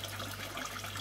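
Dechlorinated water runs steadily into a koi tote during a water change, a continuous close hiss and rush with no pauses.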